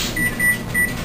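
A kitchen timer, set during whole wheat pizza dough making, gives three short, clear electronic beeps in an even rhythm over steady low kitchen background noise.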